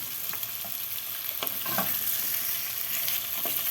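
Onions and potatoes sauté in oil with tomato paste in a pan, a steady close sizzle broken by a few soft scrapes of stirring, no voices.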